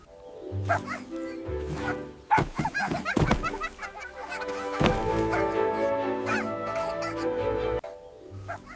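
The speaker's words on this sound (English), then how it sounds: "the fox barks" An AI-generated cartoon scene where a fox barks while a bunny and other animals giggle, giving short yipping barks and squeaky animated vocal sounds over soft background music.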